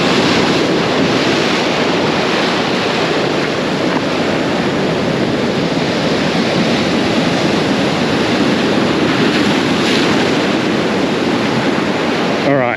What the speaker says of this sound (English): Just waiting for these sets of waves to come through so I get a little bit of a lull.